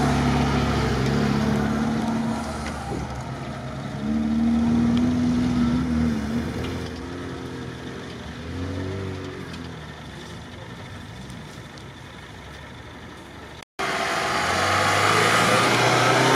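A Lada Niva off-road car revs its engine hard on a Niva club trail outing, a loud, close motor that rises and falls in steady surges, briefly cuts out, then roars again.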